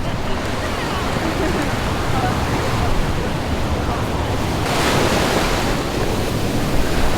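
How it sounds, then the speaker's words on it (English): Ocean waves roll in steadily at Hanauma Bay, Oahu, on a windy day, making a loud, continuous roar of surf with gusting wind buffeting the microphone. "waves are actually rolling in today, at least on that side, because of the winds"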